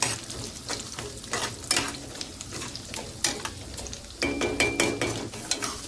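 Dal and onions being sautéed in a pan until reddish while making batata vada: a steady sizzle and frying hiss with frequent metallic spoon scrapes and clinks against the pan, close and alone.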